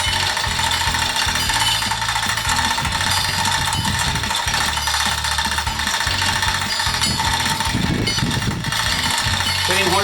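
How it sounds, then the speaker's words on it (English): A manual chain hoist lifts a submersible well pump from a well under an overhead restriction, giving a steady, loud mechanical ratcheting and clanking of chain and gears throughout, with a busy constant rattle and occasional heavier knocks. "Chain hoists are kind of slow, but we got all that torque though."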